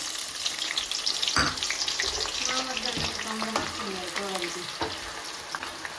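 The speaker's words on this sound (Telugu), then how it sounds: "నూనెనైతే వేడైంది ఆనియన్స్ అయితే ఫ్రై చేసుకుందాం" Onions frying in hot oil for chicken dum biryani give a steady close sizzle, while clattering utensils and what sounds like running water or stirring break in repeatedly.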